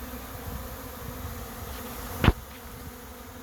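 A swarm of gentle, homeless honey bees buzzes in a continuous low drone, and one close bee zips past loudly near the middle before the hum settles again.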